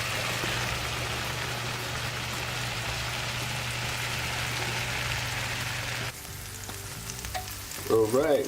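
Corned beef and sauerkraut sizzle steadily in a frying pan, a continuous close crackle with a low hum beneath; near the end the frying drops back and a few clinks and scraping stirs come through.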